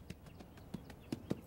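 A two-year-old quarter horse stud, born on the open range, clip-clops with four distinct hoof strikes at an uneven pace, fairly close and clear, with no voices over them.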